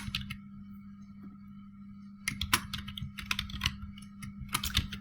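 Computer keyboard typing while an HTML heading tag is written out: quiet scattered keystrokes at first, then a dense run of close, crisp clicks over a steady low hum.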